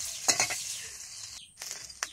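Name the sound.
shing fish frying in oil, stirred with spatula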